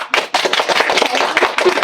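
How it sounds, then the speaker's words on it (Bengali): Audience applause honoring successful nursing entrance students, a short, loud, dense burst of many hands clapping close by. "সবাই তাদের সাকসেসের জন্য হাততালি দিয়ে তাদেরকে সম্মাননা জানাই"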